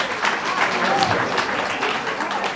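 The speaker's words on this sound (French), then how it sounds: "on peut l'applaudir" A crowd applauds steadily, a dense wash of clapping that holds for a few seconds, with a voice faintly mixed in.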